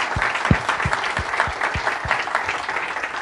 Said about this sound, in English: Let's give them one other big hand of applause.